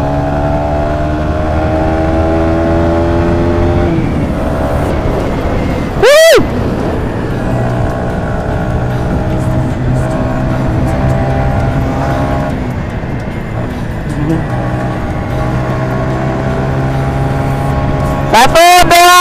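Three-month-old Yamaha Vixion-R motorcycle accelerating hard in a top speed run: a loud engine drone climbs in pitch, drops at gear changes, then climbs again under constant wind rush, with brief sharp bursts cutting in.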